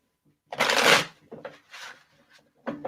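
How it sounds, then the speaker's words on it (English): A deck of cards is shuffled nearby: a loud riffling burst, then a few quieter shuffles and a final short riffle, with nothing else heard. "I'm so sorry, but I have to shuffle my cards."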